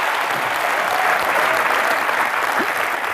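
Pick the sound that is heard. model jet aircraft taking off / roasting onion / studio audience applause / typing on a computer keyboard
studio audience applause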